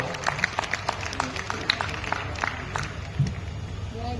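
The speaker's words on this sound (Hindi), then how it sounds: "ये दमदार तालियां है" Scattered clapping from an audience at a Hindi comic poetry gathering (hasya kavi sammelan), uneven and moderately loud with crowd murmur and chatter around it.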